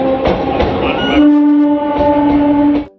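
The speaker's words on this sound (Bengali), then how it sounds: "প্রায় 20 মিনিট হল্ট করে আমাদের ট্রেন নামখানার দিকে রওনা দিল।" Sealdah–Namkhana local train pulling away from a halt on the Lakshmikantapur line, a close, steady rumble with a sustained horn-like tone rising partway through and holding until it cuts off.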